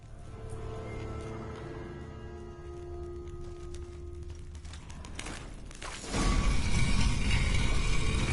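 A hidden-passage lever mechanism in a Witcher 3 wall rattles and creaks over a steady game ambience, then a heavy grinding rumble of stone sliding open takes over loudly for the last couple of seconds.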